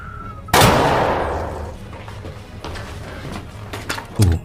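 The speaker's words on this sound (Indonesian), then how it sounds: "Sementara Abdel mendengar suara tembakan-tembakan itu langsung datang memarahi mereka semua karena menembak tanpa diperintahkan" A loud gunshot blast rings out and decays, followed by a few fainter, more distant shots in a tense, noisy scene.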